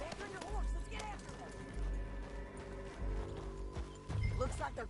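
Galloping horse hooves in Red Dead Redemption 2, with pulsing clip-clop beats and a brief neigh running under game music and background sound for a few seconds.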